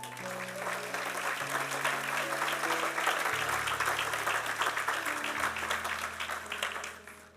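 A church congregation applauds steadily for several seconds at a sermon, the dense clapping loud and sustained over low sustained organ or keyboard chords, fading slightly at the end.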